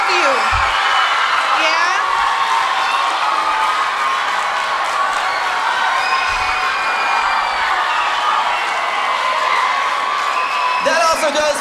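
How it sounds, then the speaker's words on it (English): An audience at a junior theatre district closing ceremony cheers, whoops and claps for the chaperones, a sustained loud crowd roar of children's voices with a brief spoken word over it. "Can you give them a big round of applause?"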